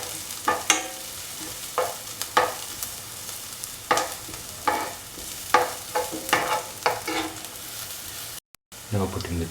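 Spices sauté in a hot pan for an aubergine yogurt stew, a close, bright sizzle punctuated by repeated rhythmic stirring scrapes, with a brief dropout near the end and no speech.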